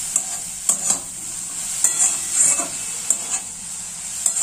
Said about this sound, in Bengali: এইভাবে নাড়াচাড়া করবেন, নাড়াচাড়া করতে করতে গাজরের এক্সট্রা জলটা শুকিয়ে যাবে।